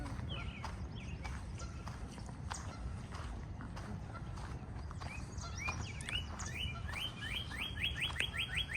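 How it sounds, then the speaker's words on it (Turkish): A bird sings bright, repeated chirping phrases that grow livelier toward the end, over steady clip-clopping hooves and outdoor background noise. "Burada da bir kuş var."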